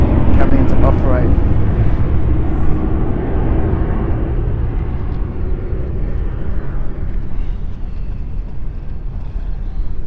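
An aircraft flying a go-around at London City Airport, heard as a steady, broad engine roar that holds throughout and eases slightly toward the end, with no distinct voices standing out.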